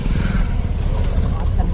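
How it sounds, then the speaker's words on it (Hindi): Motorbike ridden by forest guards passing along a jungle safari track in Dudhwa Tiger Reserve, a steady low engine rumble held close and loud for the whole stretch, with a voice speaking over it. "ये जो बाइक पे निकल गए,"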